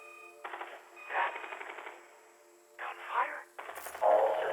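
Rapid bursts of automatic gunfire from a cutscene in the video game Exoprimal crackle in several separate volleys over a steady electronic hum, fairly close and moderately loud, with no speech.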